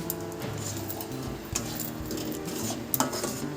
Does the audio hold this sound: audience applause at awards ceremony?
no